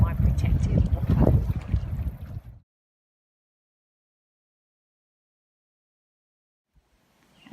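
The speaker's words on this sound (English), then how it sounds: "this is what the wind is really like when you step out from my protective boat" Gusty wind blows outdoors beside the Myall River at a kayak campsite, a loud, rough roar buffeting the microphone for about two and a half seconds before cutting to near silence.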